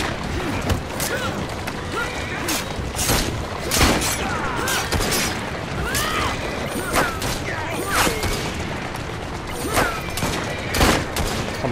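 Rapid gunfire bursts crack through a busy Assassin's Creed Syndicate battle scene, loud repeated shots and booms over a dense layer of game noise, with a player's voice talking intermittently.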